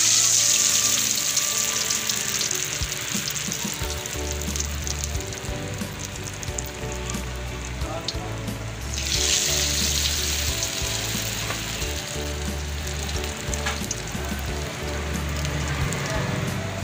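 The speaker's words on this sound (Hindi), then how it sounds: "मैं ऐसे फ्राई कर रही हूँ।" Potato aloo tikki patties frying in oil in a pan, a loud, constant crackling sizzle close to the mic that briefly intensifies midway, with no speech over it.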